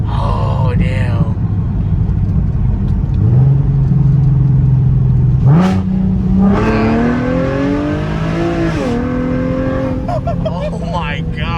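Nissan 370Z fitted with Z1 Motorsports cold air intakes revs loudly, its engine pitch climbing in steps and holding, then dropping, with excited voices talking over the engine.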